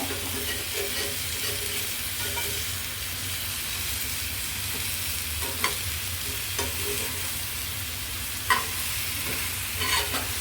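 Chicken pepper fry roasting in a pan, a steady loud sizzle with continuous scraping and stirring, occasional sharper clinks of the spatula against the pan, no talk.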